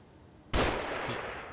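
Enemy gunfire in the survival horror game The Evil Within comes as a single sharp shot from quiet ambience, followed by a lingering rumbling decay, fairly faint overall.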